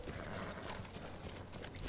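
Horse hooves in the video game Battlefield 1 beat out a steady, rhythmic clip-clop at moderate loudness throughout, with no talking.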